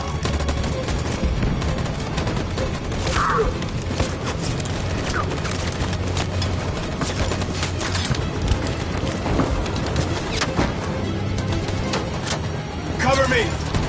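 Gunfire in the video game Detroit: Become Human, with rapid bursts and scattered shots rattling almost continuously while voices shout over the fighting.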